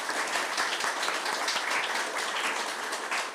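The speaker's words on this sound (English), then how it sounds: "So one more round of applause for that" Church congregation applauding during a Sunday morning service, a dense, steady wash of clapping that holds at full level for the whole stretch, with no voices over it.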